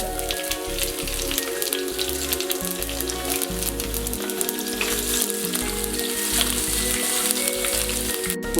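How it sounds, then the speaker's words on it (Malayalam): Curry leaves and chopped shallots drop into hot oil with popped mustard seeds, sizzling and crackling continuously at close range in a Kerala-style beetroot stir-fry, with no talking. "കടുക് പൊട്ടിയതിന് ശേഷം കറിവേപ്പിലയും ചെറിയ ഉള്ളി അരിഞ്ഞതും ഇടുക."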